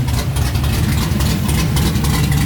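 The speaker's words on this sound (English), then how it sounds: "Got it to idle. Sounds just like my car." A JDM right-hand-drive imported turbo four-door car's engine idles with a steady low rumble and a slight rhythmic chug, loud and close, holding an even pace throughout.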